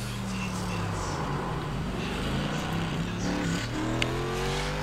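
Daytona Prototype race cars circulating on the Homestead track, engines droning and shifting pitch in a continuous loud roar from a distance, with a rising whine as one car accelerates past.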